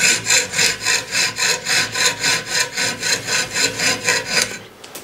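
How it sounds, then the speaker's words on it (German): A hand saw cuts a strip of sheet metal along a bent sheet-metal edge with steady, rhythmic back-and-forth strokes, about twelve rasping passes, loud and close, stopping just before the end. "Nun lasse ich diese Blechkante das Sägeblatt führen, drücke es also etwas in Richtung dieses Blechwinkels und säge hier fröhlich den Streifen"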